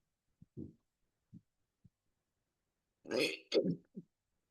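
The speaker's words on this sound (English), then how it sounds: "the burps are probably going to start now" Burps during a breathing meditation, several short low eructations spaced apart, then a louder, longer belch sequence near the end, close and otherwise quiet.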